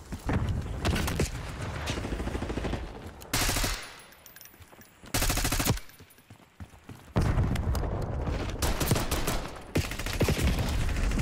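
Call of Duty Black Ops 6 gunfire on PC: sustained rapid automatic bursts and fusillades, fairly loud and dense, broken by short quieter gaps before the shooting resumes.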